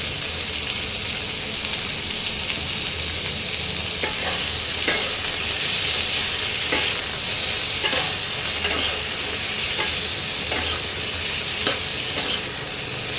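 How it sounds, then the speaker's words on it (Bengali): Flat beans frying with a little turmeric in a pan, a continuous close sizzle overlaid with a regular series of scraping stirs about every half second to second. "এর মধ্যেও সামান্য হলুদ দিয়ে ভাজবো।"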